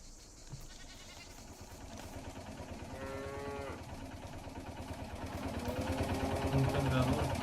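A cow moos in the horror video game Martha Is Dead, several drawn-out lowing calls that grow louder toward the end, heard under a man's speech amid ambient game sound.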